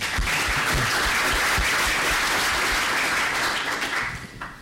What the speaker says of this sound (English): Another round of applause for Nathalie, please.